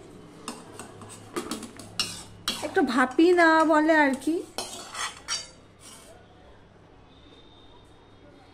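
A utensil clatters and scrapes against a wok as steamed flat beans are lifted out, with a burst of busy metallic clinks in the middle and someone talking over it.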